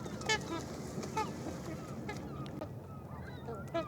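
Swans and ducks near a bridge honk and call repeatedly nearby, a few sharp goose-like honks over soft outdoor background noise.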